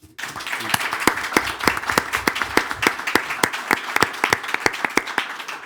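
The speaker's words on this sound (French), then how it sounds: "Applaudissements pour Serge Gouard, maire d'Orléans." An audience claps for the mayor of Orléans in a dense, steady round of applause lasting several seconds, loud and close, with no talk over it.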